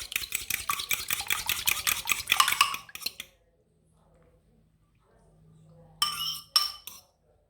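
A spoon stirs and scrapes through salmon and cream in a pan with rapid rhythmic clinking for about three seconds, then near silence and a faint low hum, before a second short burst of stirring and scraping.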